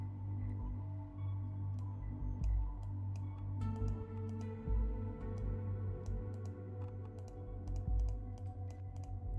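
Rapid computer mouse clicks and keyboard taps come in scattered bursts, close but quiet, over a steady low hum of background music or game sound.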